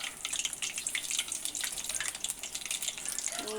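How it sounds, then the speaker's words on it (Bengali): Beguni, eggplant fritters, fry in oil over low heat with a soft, busy crackle and bubbling, heard up close and fairly quiet. "এটা একে একে এভাবে উল্টিয়ে দিতে হবে এবং ভাজতে হবে। লো গ্যাসে ভাজতে হবে এটা"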